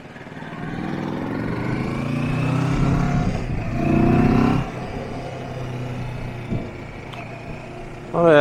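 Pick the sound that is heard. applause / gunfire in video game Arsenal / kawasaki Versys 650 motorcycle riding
kawasaki Versys 650 motorcycle riding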